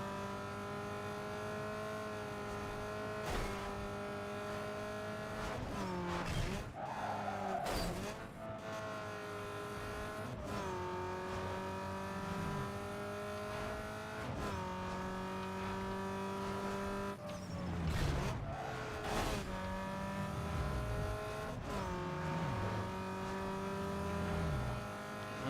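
The V6 engine of a Pontiac GTO race car in Need for Speed Underground 2 hums and revs steadily, with gear shifts and brief pitch drops breaking the drone. The sound is faint and runs the whole clip with no talk.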